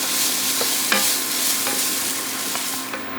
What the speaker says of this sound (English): I'm going to cook these onions down a little longer than I do a lot of times.